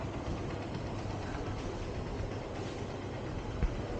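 A Royal Enfield Shotgun 650 motorcycle engine idles to warm up, a steady, faint low rumble that runs without change and with no voices.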